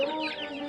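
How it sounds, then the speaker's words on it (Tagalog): Farm chickens clucking close by in a short, steady burst of overlapping hen calls with no talk. "May dakong manok."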